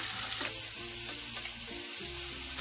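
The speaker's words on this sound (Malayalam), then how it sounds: "അത് ഇതിലേക്കിട്ട് വഴറ്റി കൊടുക്കാം." Chopped tomato sautés in sesame oil with a steady, even sizzle close by, over a faint low hum and occasional stirring.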